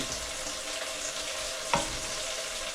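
A pot of chicken broth with Knorr cubes for tinolang manok, stirred over the heat, giving a continuous bubbling sizzle with one sharp knock of the spoon against the pot near the end, with no voices.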